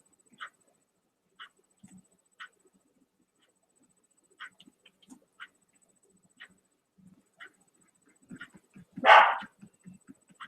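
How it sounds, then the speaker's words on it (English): Dogs bark in the distance, single faint woofs repeating at irregular intervals over quiet, with one louder, closer bark burst near the end. "There go the dogs again."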